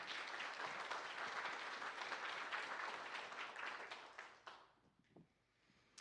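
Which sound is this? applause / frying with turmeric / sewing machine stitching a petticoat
applause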